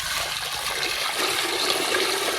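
Water gushes and splashes steadily as it is poured to wash fresh spinach for a village-style palak paneer, a close, continuous rushing pour with no talk.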